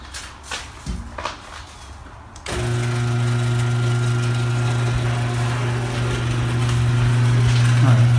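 After a few clunks and knocks, a garage door opener motor starts up and runs with a loud, steady drone as the door closes, continuing to the end. The door is being worked on during a spring replacement.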